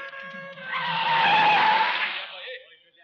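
A car in a 1993 Hindi action film skids to a halt with a rising, shrill tire squeal that swells for about two seconds and then fades, loud and close, with engine tone underneath.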